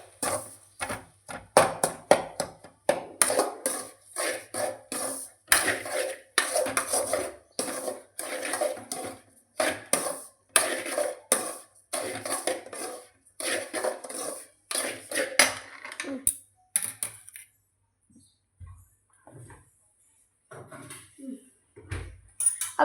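Milk being stirred steadily in a cooking pot, a spoon scraping and knocking against the metal in quick repeated strokes, close and fairly loud, easing off toward the end with only scattered taps.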